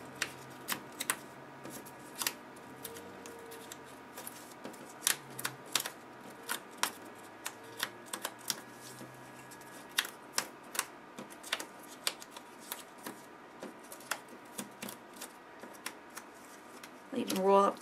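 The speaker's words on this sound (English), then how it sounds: "I just use my fingers to distress those tear lines and kind of spread them apart." Paper edges are roughed up and torn apart by fingers in a papercraft stamping project, giving quiet, irregular crisp rustles and sharp little flicks at close range.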